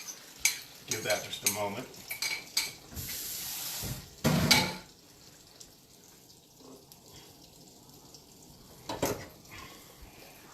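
Eggs sizzling as they hit a hot pan for a breakfast with sausage, with soft stirring and utensil scrapes, a hissing burst partway through, and a brief spoken line at the start.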